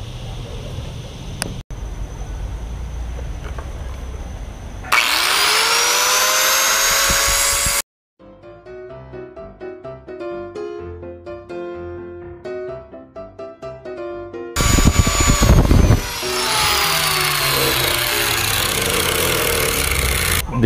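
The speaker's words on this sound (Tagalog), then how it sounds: "kailangan na lang pakinisin natin yung gilid gamit ng grinder." A handheld power grinder smooths the edge of a scope camera mount. Its steady high whine comes in two long loud stretches, with a quieter tonal passage between them.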